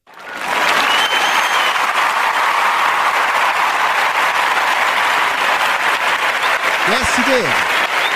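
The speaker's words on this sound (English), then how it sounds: "I'll give him a clap for this" Audience clapping for a block party host, a loud, dense, sustained round of applause that starts abruptly and holds steady, with a brief voice speaking near the end.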